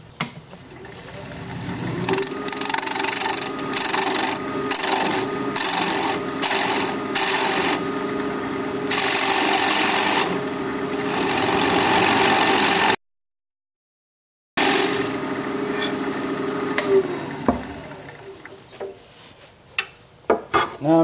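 A wood lathe spins a natural-edge bowl blank, somewhat punky in spots, as a tool works the tenon, giving a steady motor hum with repeated scraping and rubbing bursts, a brief dropout and light handling noises near the end.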